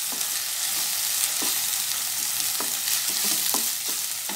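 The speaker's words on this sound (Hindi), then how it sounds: "अब मैं डालूंगी जो छना हुआ दाल, इसे डाल लेंगे" Strained raw moong dal hits hot oil in a pan and fries with a constant bright sizzle, broken by a few soft stirring knocks, no one speaking.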